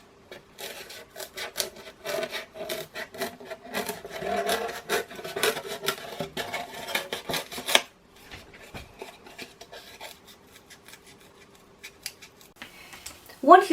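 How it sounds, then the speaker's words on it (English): Scissors snipping through paper to cut out a drawn shape for a homemade block-printing stamp, a run of close, irregular crisp cuts for several seconds, then quieter handling with a brief sound at the end. "you can cut out your shape with a pair of scissors"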